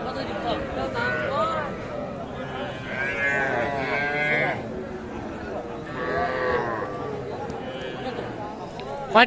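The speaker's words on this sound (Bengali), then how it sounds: "এগুলো একটা একদম বাচ্চা গরু" A very young calf moos at a cattle market in Gopalganj, with two drawn-out, nasal calls in the middle of the clip amid close, busy talk and general market bustle.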